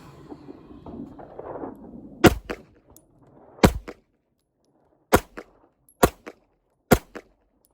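Pistol shots from a handgun fitted with a Holosun 507c optic during a dot torture drill, five sharp cracks spaced a second or more apart after some shuffling, each ringing briefly.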